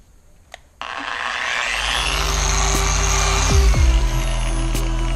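A machine polisher fitted with a homemade pad scrubs a section of a car's clear-coat paint during a cutting and refinement step. After a brief quiet start it becomes a loud, steady whirring drone whose pitch dips briefly as the pad loads.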